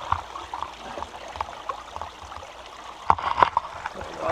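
Creek water flowing at Penn Creek on the Appalachian Trail makes a soft, steady trickling wash, with a few brief splashes standing out later in the clip.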